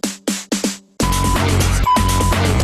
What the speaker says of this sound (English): There's like a little bleep and like a little snare fill